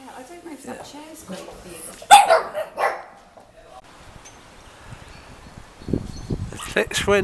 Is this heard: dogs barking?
yes